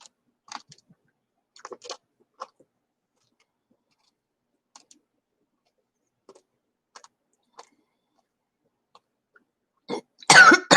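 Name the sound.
coughing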